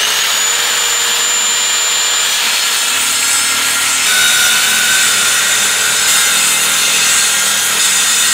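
Continuous rasping saw cutting wood for an indoor putting green platform, a steady, loud, close grinding with no pauses and no talk.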